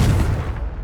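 A Confringo fire spell bursts in Hogwarts Legacy, one loud, close blast that fades over under a second.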